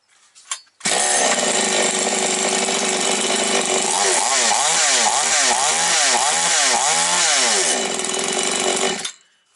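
A Chinese gasoline chainsaw is pull-started and roars loudly into life close by, holding a harsh high-revving buzz with several rising and falling throttle swells before cutting out abruptly.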